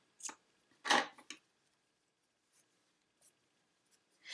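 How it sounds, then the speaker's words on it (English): Scissors snip through blue yarn during crochet work, a few short close crisp cuts in quick succession in an otherwise quiet room, followed by faint small handling sounds. "now we're going to cut our blue yarn"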